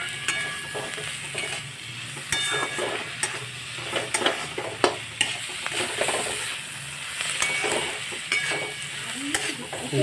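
Egg chowmein sizzles and fries in a pan at home, with steady crackling hiss and repeated stirring scrapes and light clinks of a utensil against the pan, close and continuous with no talk.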